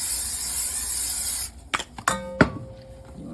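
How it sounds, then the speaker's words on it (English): A steady hiss of cooking spray into a bowl fills the first stretch, then a few sharp clinks and knocks of containers follow in a quiet room. "You want to spray your bowl here."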